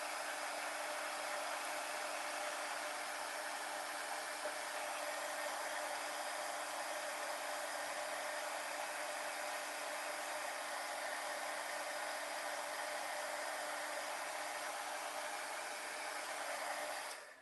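A heat tool blasts hot air steadily while heat-setting a craft card, a loud continuous whooshing roar that holds unchanged for the full length before cutting off at the end.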